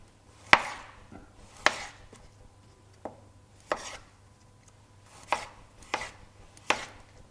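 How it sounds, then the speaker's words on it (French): A knife chops fresh peeled ginger on a board in about eight sharp, separate strikes, spaced irregularly and heard alone over a low steady hum. "Pareil, le gingembre, pensez à le découper, à ne pas garder la peau"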